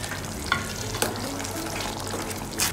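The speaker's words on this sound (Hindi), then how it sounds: "अब मैं ये कोफ्ते इसमें डाल देती हूँ।" Bottle gourd koftas drop into simmering gravy in a pan, a continuous gentle bubbling sizzle with a few soft clinks and thumps as they go in, close and unaccompanied by speech.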